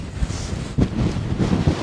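Wind gusts buffet the microphone on the coast at North Berwick, a low, rough rumble that swells and fades in short bursts, with no voices.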